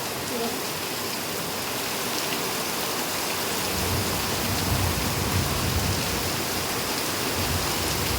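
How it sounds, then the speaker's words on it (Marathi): Heavy monsoon rain pours down outside at night, a dense, steady roar of drops drumming on surfaces that continues unbroken and loud throughout. "एवढा मोठा पाऊस पडतो"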